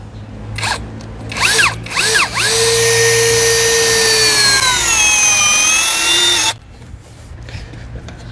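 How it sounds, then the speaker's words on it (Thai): A cordless drill drives a long screw into thick hardwood. After a few short trigger bursts, it runs as one loud, steady whine that drops in pitch under load for about four seconds, then stops. "มาทดสอบกับการยิงสกูนะครับ"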